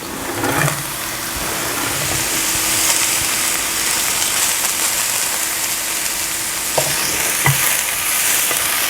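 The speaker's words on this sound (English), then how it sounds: "now I'll add my celery to that" Chopped celery frying in a pan for beef pasta, giving a loud, steady hiss of sizzling oil with a few soft spoon scrapes and knocks, close up and without any voices.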